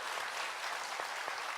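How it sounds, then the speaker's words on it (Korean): Brief, steady congregation applause at a Korean church worship service, a dense wash of many hands clapping at moderate distance. "박수 한번 보내줍시다"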